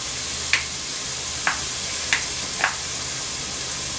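Garlic and minced ginger sizzle in a pan under a steady hiss, with four brief scraping strokes as they are stirred, close and alone without talk.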